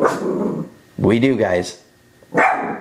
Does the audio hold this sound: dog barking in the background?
yes